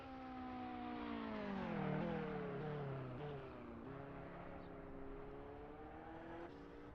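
A Ferrari 488 GT3 race car engine drones loud and continuous around Le Mans in a racing sim. The pitch sags as the car slows, then climbs again under acceleration.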